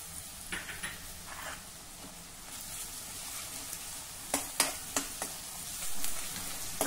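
Onion with ginger-garlic paste sautéing in a pan, a moderate steady sizzle broken by several sharp spatula scrapes and taps in the second half, with no talking.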